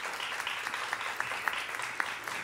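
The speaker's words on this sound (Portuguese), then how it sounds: "eu queria pedir uma salva de palmas para o Roberto Inátali, que está aqui." An audience at a music evening applauds a guest with steady, moderately loud clapping, a few sharper individual claps standing out from the crowd.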